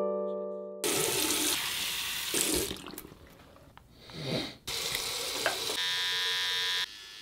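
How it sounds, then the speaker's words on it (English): Shaving at home, heard as loud buzzing, rasping bursts that start and stop several times, with a watery hiss between them and no talking. "Just started shaving."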